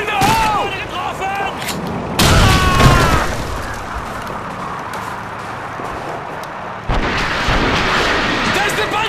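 Panzerwerfer rocket artillery in a Call of Duty 2 Russian winter mission: heavy booming blasts and rushing roars over dense battle noise, with shouting voices mixed in.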